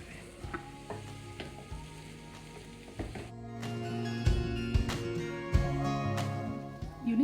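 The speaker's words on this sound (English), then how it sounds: "Let's mix this all well." Potato filling for aloo paratha, seasoned with lemon juice and salt, is mixed in a bowl: soft irregular scraping and stirring knocks with a faint sizzling undertone, fairly quiet and close.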